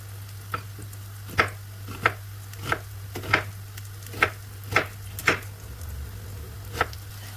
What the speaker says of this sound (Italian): E dopo prendo 3 cipolle, le taglio quadratini e le metto nella stessa padella